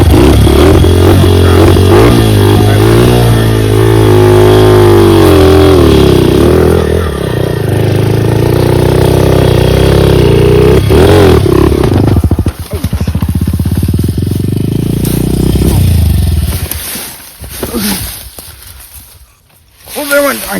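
A trail motorcycle revs hard close to the microphone, then its roar breaks off abruptly around the moment the clutch lever snaps off. The engine surges once more before sputtering down to near quiet at the end.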